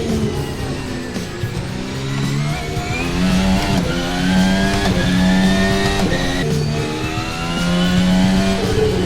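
A VRC 24 race car in a video game, on the Singapore street circuit, revs hard through a series of rising and falling engine pitches as it shifts gears, loud and continuous throughout.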